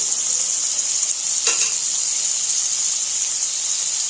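Cashews and raisins go into a pan of pulao for a Sunday lunch, under a steady, loud frying sizzle and hiss with a brief stirring scrape, close up and without talk.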